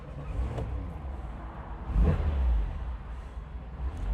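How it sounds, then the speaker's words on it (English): A 1959 Porsche 356A Convertible D "Outlaw" on a cold start: a rough, low engine rumble close by with a couple of brief surges as it catches and settles into a steady, uneven idle; no talk. "here we go with our cold start as usual"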